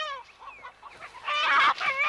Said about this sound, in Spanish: Estas gallinas vienen de la cocina del hospital.